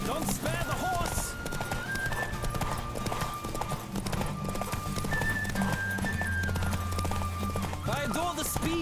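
Hoofbeats of the horse Roach galloping in The Witcher 3 keep a steady clip-clop rhythm with an occasional whinny, layered over game music and a voice talking throughout.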